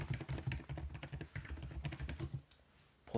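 Rapid, steady clatter of computer keyboard keys as a question is typed to ChatGPT, close and fairly loud, ending in a short pause with a final tap.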